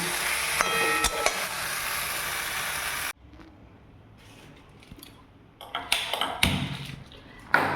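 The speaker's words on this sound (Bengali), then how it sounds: "এগুলো দিয়ে সব দিয়ে সুন্দরভাবে নাড়ব" Spoon stirring dry chili paste into a sizzling soybean coconut curry in a pan, loud frying at first, then a sudden drop to quieter scraping and clinks of the utensil against the pot.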